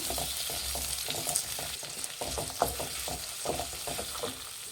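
Two medium tomatoes fry in a pan for Hyderabadi chicken masala, giving a close, crackling sizzle with repeated rhythmic scraping strokes of a spatula.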